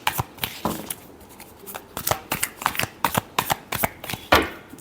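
Tarot cards are shuffled by hand in a series of quick, close riffling bursts that speed up toward the end, with no talking.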